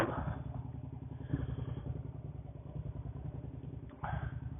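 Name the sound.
loud motorcycle riding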